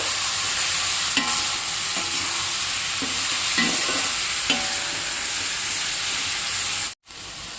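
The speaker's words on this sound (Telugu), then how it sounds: "ఇందులోనే ఉప్పు సరిపడంత, అలానే పసుపు కూడా వేసుకునేసి ఇవి కూడా బాగా టమాటా మగ్గేంత వరకు బాగా వేయించుకోవాలి" Tomatoes frying in a pan with salt and turmeric, a steady loud sizzle with several soft scrapes of stirring, ending in a brief silent cut.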